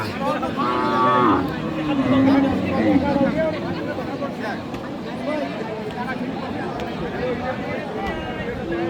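Cattle moo loudly a couple of times, long low calls over a busy crowd of chattering voices at a cattle market showing Friesian cross cows and heifers.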